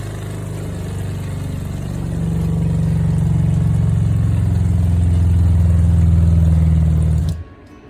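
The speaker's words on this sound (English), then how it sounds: "Now we're gonna flip on our pump, and now it's filling up the canister." Water pump on a 2022 Rockwood 2509S travel trailer filling a canister, a loud steady motor hum that builds over the first seconds, holds evenly, then cuts off abruptly near the end.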